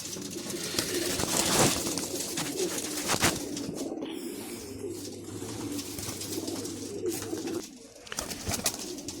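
A flock of domestic pigeons coos continuously nearby in low, throaty calls, with occasional rustles and wing movement mixed in.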